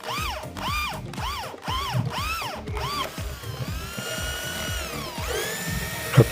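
An electric drill fitted with a carbide zigzag bit bores through a 1.2 mm steel plate, whining in repeated rising and falling bursts before settling into a steady high whir, loud and close.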